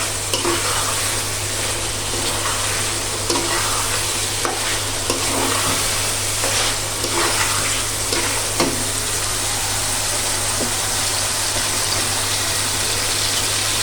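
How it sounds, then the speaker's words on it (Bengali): Potatoes fry with spices in a pan, a steady sizzle broken by repeated scraping stirs, with a low hum underneath and no one speaking. "একটু কষিয়ে আবার আমি আরেকটু পানি দিয়ে তারপরে একেবারে মাখো মাখো শুকিয়ে ফেলবো একদম ভাজা ভাজা করে ফেলবো"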